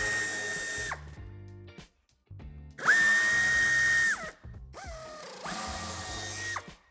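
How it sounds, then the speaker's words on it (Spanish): A power tool backs out Torx 25 screws on an Audi A3 sedan, with several whirring bursts that rise and fall in pitch as each one spins up and winds down, separated by brief gaps, loud and close. "Empezaremos quitando los 6 tornillos de Torx de 25"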